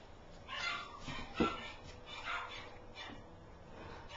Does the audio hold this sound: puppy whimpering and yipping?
yes